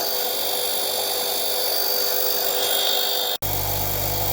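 Power tool grinding a Honda 160cc Mountfield lawnmower blade to square off a damaged edge, a continuous close high-pitched whine that cuts off abruptly near the end, followed by a low hum.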